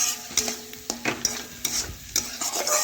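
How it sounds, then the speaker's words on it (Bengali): Fried potatoes are stirred with spices in a sizzling pan for an egg curry. A spoon scrapes in repeated, uneven strokes over a soft, steady frying hiss. "আলুগুলো দেওয়ার পরে মশলার সাথে বেশ কিছুক্ষণ ভালোভাবে কষিয়ে নিলাম"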